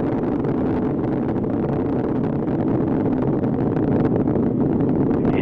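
Space Shuttle Atlantis's three main engines roar during launch while throttled down near maximum dynamic pressure, a steady, dense, loud rumble lasting throughout without any voices.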